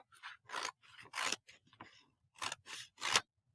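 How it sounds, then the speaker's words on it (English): Scissors snip through paper in quick, close strokes, roughly eight crisp cuts in an uneven rhythm with short pauses between them, quiet and alone. "you can go ahead and cut it out"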